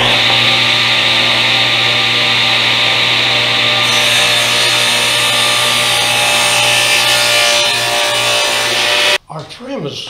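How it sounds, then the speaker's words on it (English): A saw cuts down a remnant of 3-inch wide wood trim for a small electrical access panel, a loud, steady, continuous rasp running for about nine seconds before stopping abruptly, followed by brief faint clatter. "I got this remnant of 3-inch wide trim. That would be too wide for such a small panel, so I'm going to cut it down"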